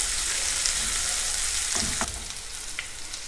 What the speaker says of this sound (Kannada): ನೆಕ್ಸ್ಟು ಈರುಳ್ಳಿ ಹಾಕ್ಕೊಳ್ಳೋಣ. ಈರುಳ್ಳಿನ ಸ್ವಲ್ಪ ಕಲರ್ ಚೇಂಜ್ ಆಗೋವರೆಗೂ ಹುರ್ಕೊಳ್ಬೇಕು.